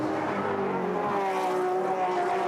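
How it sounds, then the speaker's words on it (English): Aston Martin GT race car climbing Bathurst's Mountain Straight, its engine note a sustained high whine rising steadily as it accelerates, loud and alone. "So the Aston on the run up Mountain Straight, that's where it's strong."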